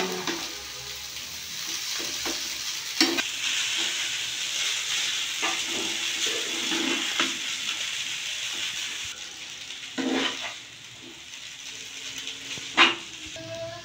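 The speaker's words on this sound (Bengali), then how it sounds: "সবজিগুলো ভালো করে ভেজে নিয়েছি। এর মধ্যে আমি চাউমিনটা দিয়ে দেবো," Boiled chow mein being stir-fried with fried vegetables in a pan gives a steady sizzling hiss, with occasional louder scrapes and clatters of the spatula against the pan throughout.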